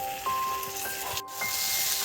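Sliced potatoes sizzle steadily in hot oil in a home kitchen pan, a continuous close hiss broken by a few light scraping clinks of a spatula, with no talking.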